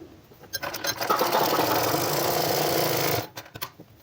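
Electric sewing machine stitching a women's cord set shirt, running in a steady loud whir for about three seconds before stopping, with brief clicks of handling before and after and no talking.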